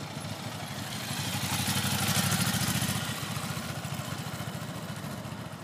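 Ducati motorcycle engine at slow riding speed with the clutch eased out, a steady close rumble that swells slightly in the middle and then settles to an even, pulsing idle-like throb.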